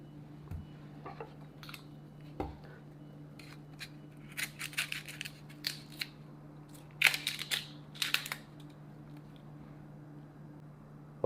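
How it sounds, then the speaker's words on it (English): Onions are peeled and sliced with a knife in a kitchen, giving scattered soft crunches and crisp cuts in uneven clusters over a low steady hum, with no talk. "Now I'm going to peel the onions and cut them."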